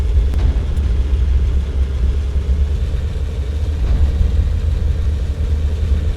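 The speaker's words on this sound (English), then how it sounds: "See how the engine handles." A tank engine runs in the video game Sprocket during a brief test drive, a steady low rumble with a mid-range drone that stays constant and loud throughout, with no talking.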